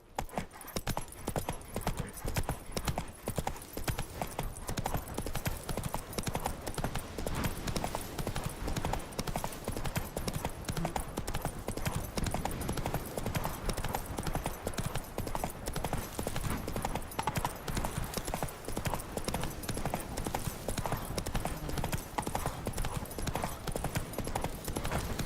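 Roach, the horse in The Witcher 3, gallops steadily with dense, continuous hoofbeats that drive on for the whole stretch, loud and close, with faint voices now and then underneath.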